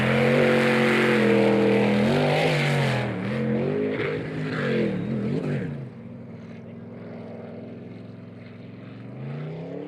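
Twin-turbo race car of the 151M Psycho Racing team, roaring loudly nearby at a pro racing series event in Port Angeles, its engine note falling away to a fainter drone.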